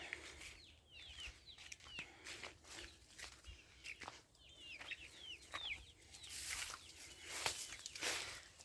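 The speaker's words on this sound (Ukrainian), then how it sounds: "і теж тут у нас ось курчата" Chickens and chicks clucking and cheeping in a quiet morning farmyard, faint and scattered at a distance, with soft rustling and footstep-like sounds between the calls.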